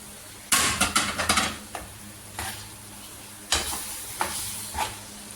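Roasted chana dal and urad dal tipped into a hot pan sizzle with sharp taps and scraping stirs in a burst early on, then scattered clinks and hissing.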